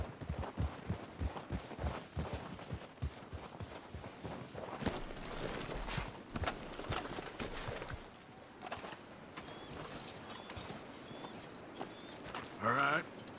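Horses walk at a slow pace in Red Dead Redemption 2, their hooves giving soft, uneven clip-clops on the ground under faint ambient game sound, with quiet bits of talk and a brief tone near the end.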